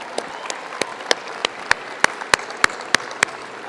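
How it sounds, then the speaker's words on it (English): Sharp, evenly spaced claps ring out at a high school class of 2014 commencement ceremony, about a dozen crisp hand claps in a steady rhythm over a faint background of crowd noise. "Give yourselves a round of applause."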